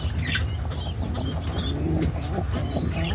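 Newly acquired pet pigeons or doves coo softly amid steady background noise, with occasional wing flaps and chirps, close by and without speech.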